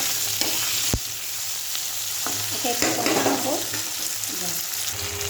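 Potato and tomato fry in a pan with a steady sizzle, stirred with a few scraping knocks against the pan, no talk.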